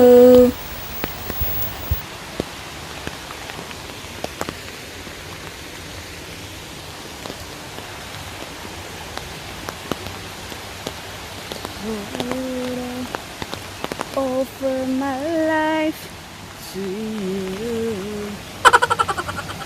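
Steady rain falling on a wet trail leading to a waterfall, a constant hiss with scattered drops, joined later by brief musical tones and a louder thump near the end.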